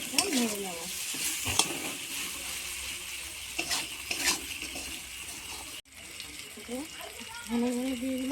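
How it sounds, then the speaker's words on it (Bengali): Food frying in hot oil with spices is stirred in a pan, a steady close sizzle with scraping stirs that come and go, while a voice speaks faintly at times underneath. "সিম্পল মশলা দিয়ে আমি এটা নেড়ে নেবো।"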